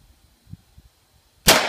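A single loud, sharp M1A rifle shot cracks at an outdoor shooting range, with a few faint low thumps before it and a short decaying echo after.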